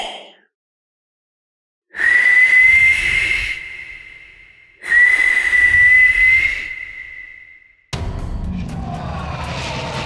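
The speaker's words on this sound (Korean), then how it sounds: "자리공은 한숨을 쉬면서 휘파람을 불었소." Two long, steady high-pitched whistles, each slightly rising and breathy, followed by a noisy rumbling wash.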